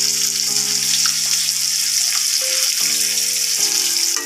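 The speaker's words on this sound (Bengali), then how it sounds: "মাছটা ভাজা হচ্ছে।" Hilsa fish pieces sizzling in hot oil in a home kitchen, a steady bright frying hiss throughout, with a tonal background hum that shifts pitch in steps.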